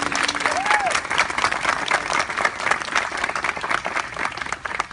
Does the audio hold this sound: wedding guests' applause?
yes